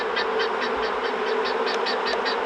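A swarm of honey bees hums around a hive, a steady close buzz with a faintly pulsing rhythm, filling the whole moment without any voices.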